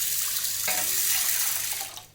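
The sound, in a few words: water poured into a pan of chana dal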